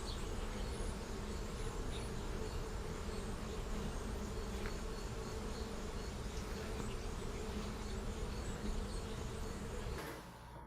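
Honey bees building comb in a hive frame, a dense, continuous buzzing hum of many bees close up, steady throughout and dropping slightly at the very end.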